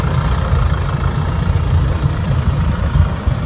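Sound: Nissan Frontier Pro-4X diesel pickup engine rumbling off-road

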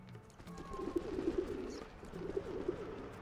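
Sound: pigeons cooing in the video game Sly 2: Band of Thieves

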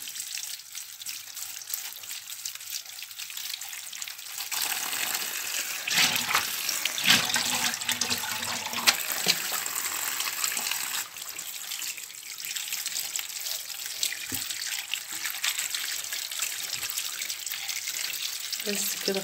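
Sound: tap water running while washing strawberries

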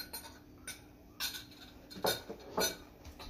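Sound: pots, pans and cutlery clanging in a kitchen

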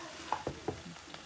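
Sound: broccoli and bacon frying and being stirred in a pan

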